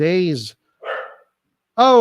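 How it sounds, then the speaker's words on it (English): Dogs bark in a few loud, close bursts with short gaps of quiet between them, and a short vocal sound falls in one of the pauses. "these freaking dogs, dude"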